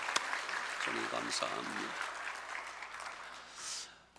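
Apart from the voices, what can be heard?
congregation applauding in church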